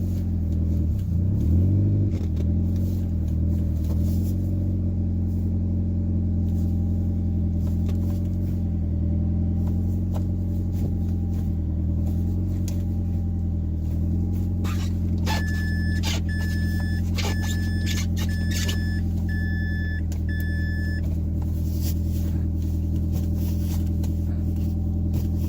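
A Mazda 3 engine runs with a steady low rumble in third gear after a clutch swap, with slight shifts in tone and a brief series of beeping chimes partway through.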